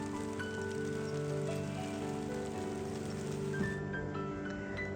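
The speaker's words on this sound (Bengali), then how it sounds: "দেখেন মুষলধারে বৃষ্টি, মানে সময় দেয় নাই।" Torrential rain mixed with hail hammers down on a city street in a dense, unbroken patter, steady and fairly close, with no one talking.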